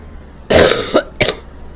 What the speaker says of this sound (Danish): Hoste noget lige nu.